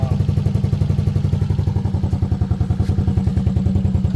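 A Yamaha Aerox v2 scooter engine idles close by, a steady, fast, even putter with a slightly raised idle, running alone without talk.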